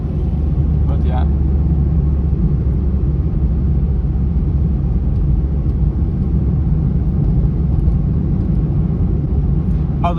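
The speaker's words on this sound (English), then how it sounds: "the car runs pretty good" A car engine drones steadily with constant low rumble throughout, as if heard from inside a moving vehicle; occasional light clicks and rattles sit on top.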